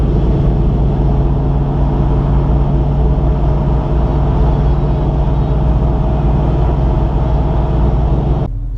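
A New Edge Ford Mustang with a swapped TKX manual transmission drives along, its engine and road noise a loud, steady close drone that cuts off abruptly at the end.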